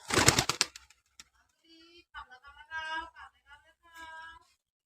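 Pigeons, including a male bird, coo in short repeated bursts at close range, with a loud rustle or flutter at the start and brief murmuring sounds between the calls.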